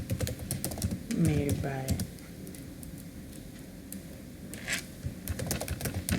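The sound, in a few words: typing on computer keyboard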